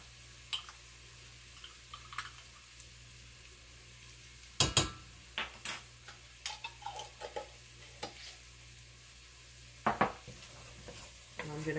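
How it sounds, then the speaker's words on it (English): Chopped onions frying in a pan with dried basil and oregano, a faint steady sizzle broken by scattered sharp scrapes and clacks of stirring, with no talking. "I'm going to cook this until the onions are slightly browned"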